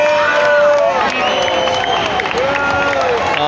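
An arena crowd at a junior hockey game, Mississauga Steelheads at Erie Otters, cheering after the final goal, with a sustained roar of voices, whoops and scattered applause, plus loud whistles or horns rising above it.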